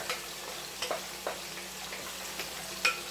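A tomato and vegetable mixture for eggplant stew cooks in a pot on the stove, a soft continuous sizzle punctuated by light irregular clicks and taps of a utensil against the pot, nobody speaking.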